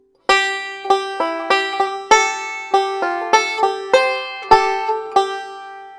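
A banjo plays a short, bright phrase of picked notes and strummed chords in a steady rhythm in C position, clear and close with no voices.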